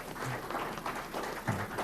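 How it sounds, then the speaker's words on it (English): An audience applauds a panel at an online conference session on embracing change and digital transformation, a steady wash of clapping lasting a couple of seconds at moderate level with no one talking. "We can give them a round of applause."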